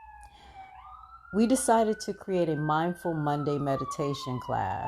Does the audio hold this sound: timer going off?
no